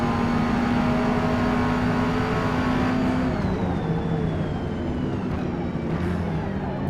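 Engine of a Mazda MX5 Rocket Bunny race car accelerating in Forza Motorsport (2023), a steady loud drone whose pitch shifts as it pulls through the gears during an overtake.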